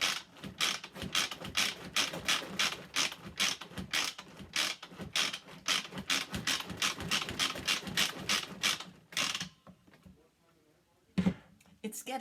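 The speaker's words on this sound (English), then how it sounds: "You can see how the manual food processor just mixes this around." A Pampered Chef manual food processor mixes coconut mango pie filling with rapid, rhythmic ratcheting clicks from its crank, running steadily for several seconds, briefly pausing, then starting again, under a person talking.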